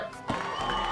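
A crowd cheering and applausing, played from a sound effect board, swells briefly and holds at a steady roar for about a second.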